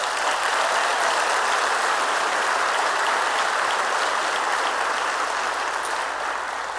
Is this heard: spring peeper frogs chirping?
no